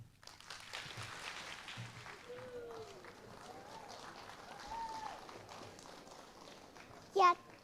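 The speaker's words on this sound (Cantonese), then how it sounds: "請大家以熱烈嘅掌聲鼓勵，我哋交俾天主教明我幼稚園小朋友" A concert audience applauds kindergarten children at a Hong Kong choir concert, a steady moderate patter of clapping with faint voices mixed in and a brief louder burst near the end.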